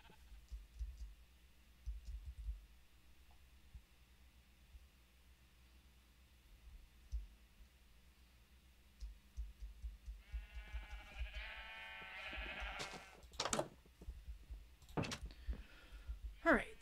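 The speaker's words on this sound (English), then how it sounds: "that sheep scared me" Sheep bleating in a video game, heard late as a wavering cry followed by sharp clicks, with soft low thumps and a person talking over the quiet game sounds.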